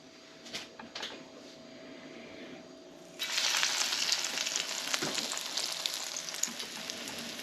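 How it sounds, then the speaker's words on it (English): Crab and lobster ravioli dropped into hot extra virgin olive oil in a cast iron skillet for a shallow fry, bursting into loud steady sizzling after a quiet start with a few light clinks. "We're just doing a shallow fry"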